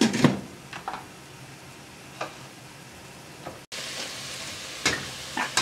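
Carrot and other unsalted vegetables sizzle steadily in a pan, a constant frying hiss with occasional sharp clicks and utensil taps, a short drop in the middle.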